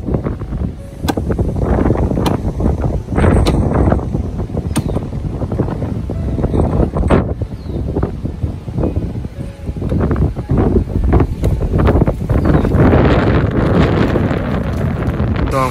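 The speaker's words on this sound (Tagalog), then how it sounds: "Sobrang lakas ng hangin." Loud, strong typhoon wind buffets the microphone in continuous roaring gusts, rising and falling without pause.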